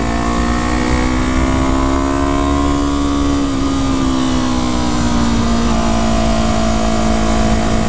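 A modded 2015 Yamaha R3 motorcycle held in third gear while cruising, a loud steady engine whine close by whose pitch rises slightly then eases down, with constant wind rush and no talking.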